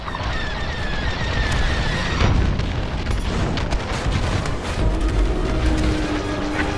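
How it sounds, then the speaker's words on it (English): A ship's core detonating in the Star Wars Squadrons space combat game, a heavy booming explosion with rumbling bursts and crackle that rolls on amid continuous battle noise and faint tones. "Detonate the core, now! Don't be too close when that detonates."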